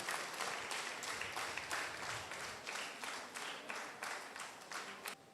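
Applause from the audience at a prize-giving during a church golden jubilee celebration in Illandu, Khammam, steady dense clapping that fills the whole stretch at an even loudness, with no voices over it.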